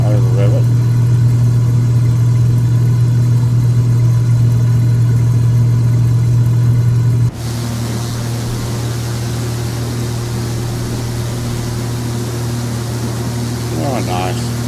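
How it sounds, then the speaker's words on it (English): A Cessna T206H engine in Microsoft Flight Simulator, as a loud, steady engine drone with a strong low hum that drops in level partway through and then holds, while a person talks over it. "I'm going to take it off, but I don't want to over rev it."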